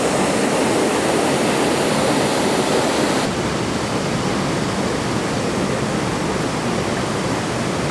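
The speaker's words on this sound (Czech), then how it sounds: "nádherný vodopád, dívejte se, nádherná modrá voda" Waterfall pouring into a blue pool at Theth in the Albanian Alps, a loud, continuous broadband roar of falling water with no breaks, close and steady throughout.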